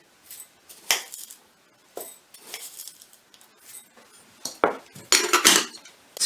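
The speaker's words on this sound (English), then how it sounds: "Measure out 4 tablespoons of oats" A metal spoon scoops oats into a bowl for a vegetable, cheese and soya savoury, giving repeated clinks and scrapes against the dish in uneven bursts, close and fairly loud, with no voices.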